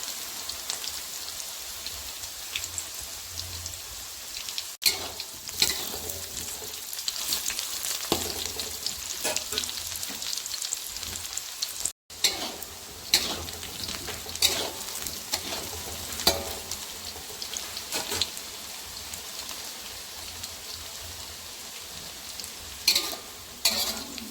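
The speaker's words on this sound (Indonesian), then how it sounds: "Panaskan minyak secukupnya, lalu goreng tempe hingga matang, tapi jangan terlalu kering ya." Tempe frying in hot oil, a steady loud crackling sizzle with bursts of spatter and occasional stirring clicks, close by and without talk throughout.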